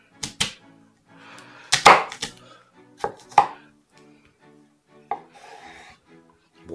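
A knife cuts a sweet potato in half on a board, with sharp chopping knocks in small clusters and softer rubbing, scraping strokes between them. The sounds are close and clear, with no talking.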